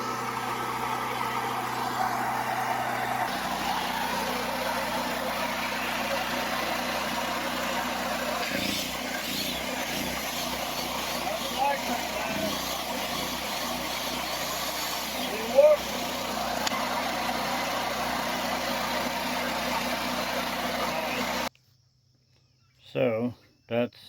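A generator engine runs steadily at idle after its first crank, a continuous mid-pitched drone that holds for about twenty seconds before cutting out abruptly, with brief louder noises afterward.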